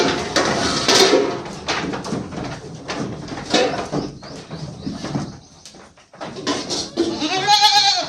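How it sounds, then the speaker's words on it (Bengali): Goats on a goat farm, eager to be fed hay, bleat repeatedly and loudly at close range. Overlapping calls come in bursts, with a shrill cry near the end. "ছাগলগুলো খাওয়ার জন্য কত ছটপট করছে দেখুন"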